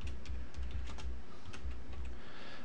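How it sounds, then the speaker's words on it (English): Keystrokes on a computer keyboard as a page name is typed, a steady run of light clicks at close range with no voices. "we're going to type in the page name"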